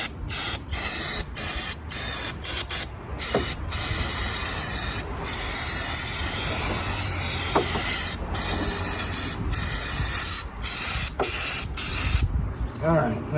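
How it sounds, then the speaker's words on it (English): Brake cleaner hisses from an aerosol can onto a car engine during an oil change, loud and close, in long continuous sprays broken by brief pauses and a few short bursts near the end. "Let me get a little more brake clean and just spray this down again."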